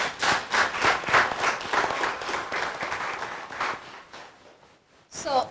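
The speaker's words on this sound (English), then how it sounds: "please clap for them" Audience applause for the speakers at a Tanzania health summit symposium, a burst of clapping from a room full of people that dies away, followed by a brief voice at the end.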